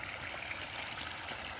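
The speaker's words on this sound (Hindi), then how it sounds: "पानी चल गया है क्योंकि" Irrigation water runs through a crop field, a faint, continuous rushing and trickling flow, steady throughout, with no voices.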